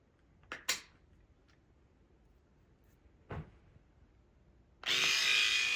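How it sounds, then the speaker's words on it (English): An 8D electric head shaver switches on near the end and runs with a loud, steady buzz against a bald head, after a few scattered knocks and handling clicks. "This is a buffing wheel for your head."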